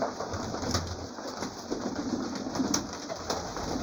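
Racing pigeons coo softly while eating feed, their low murmuring calls repeating close by over a faint background hum.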